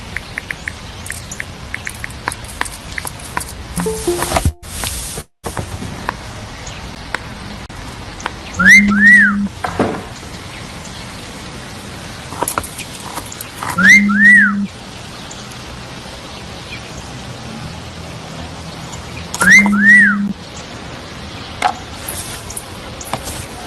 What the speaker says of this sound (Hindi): कुछ लोग मुझे देखकर ऐसी ही सीटी मारते हैं